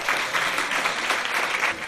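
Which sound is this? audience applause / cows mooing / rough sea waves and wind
audience applause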